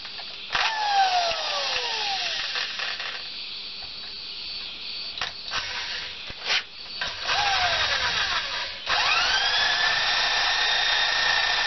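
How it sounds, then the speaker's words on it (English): A power drill bores a smaller hole into a part of a commercial zero-turn mower, whining loudly in several bursts of rising and falling pitch with brief pauses between runs. "I'm going to put a smaller hole in to make this easier."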